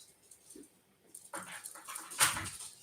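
A small dog on an Australian farm whimpers and pants softly, a faint high whine followed by quick breathy pants close by, with no talking.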